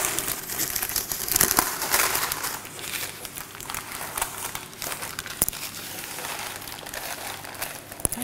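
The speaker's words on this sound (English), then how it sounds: "I'm going to fold back all the edges of the baking paper" Baking paper crinkles and crumples repeatedly as its edges are folded back around an apple pie crust, close and continuous rustling with a few sharper crackles, a voice faintly present in places.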